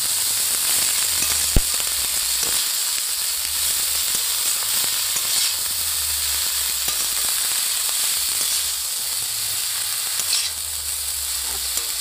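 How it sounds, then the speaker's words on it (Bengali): Gima greens stirred and fried in a hot pan, a loud continuous sizzle with scraping stir sounds and an occasional sharp clink, close and steady throughout with no talking. "এবার শাকটা দিয়ে ভালো করে এইভাবে নেড়ে নেড়ে শাকটাকে গলিয়ে নেব"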